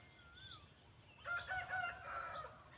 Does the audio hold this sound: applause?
no